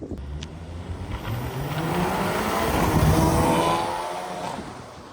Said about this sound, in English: It honestly sounds pretty classy with just that downpipe not giving too much exhaust and you hearing the turbo